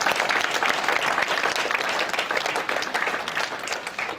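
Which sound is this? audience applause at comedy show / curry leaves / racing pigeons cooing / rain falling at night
audience applause at comedy show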